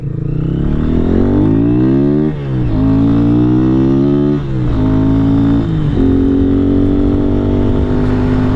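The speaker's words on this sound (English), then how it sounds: "Today I'm out on my KPR200 and I'm going to do a ride video." A KPR200 motorcycle being ridden, its engine loud and close as it revs up through rising pitch, drops briefly at gear changes, then holds a steady drone.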